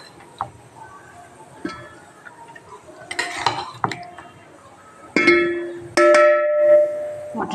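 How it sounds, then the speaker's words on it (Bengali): Mutton kosha tipped into a biryani pot and stirred, metal spoon clinks and scraping against the pan, louder clatters near the end. "মটন কষা দিয়ে দিলাম।"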